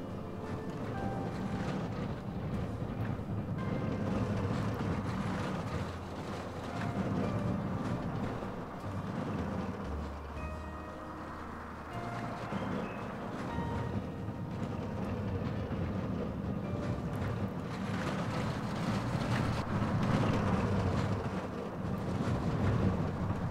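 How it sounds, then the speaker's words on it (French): A roller coaster ride in Planet Coaster gives a continuous rumbling clatter of wagons on track with rushing wind, steady and fairly loud for the whole stretch, swelling slightly at times, with no talking. "Je vais tester le coaster"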